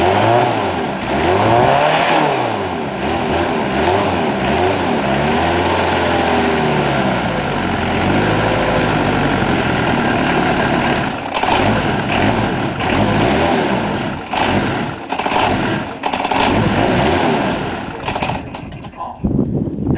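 A Ford Escort Van with an 1800 diesel engine cranks, catches and revs in repeated rising and falling surges, loud and close, then settles unevenly toward a lumpy tick over near the end.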